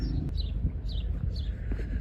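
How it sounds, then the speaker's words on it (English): House sparrows chirp in a short run of brief, bright calls outdoors in chilly weather in Ventnor, spaced a few apart over a steady low background rumble. "I see here the house sparrows."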